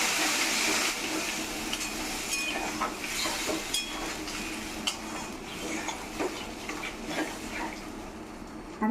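Water poured into a pan of sautéed potato and taro curry, giving a continuous close hiss of steam and sizzling with light scraping and clinks of stirring throughout.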